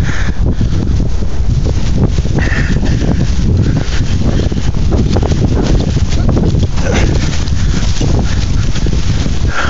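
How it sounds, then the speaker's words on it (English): Strong wind of about 35 miles an hour during the 2011 Chicago blizzard buffets the microphone in a loud, unbroken roar with gusty rumbling throughout, close and overwhelming. "The wind is about 35 miles an hour."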